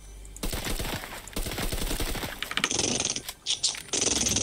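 A machine pistol firing in Fortnite, heard as rapid automatic bursts of close, loud shots in quick rhythm, broken by brief pauses and followed by mechanical reload clicks.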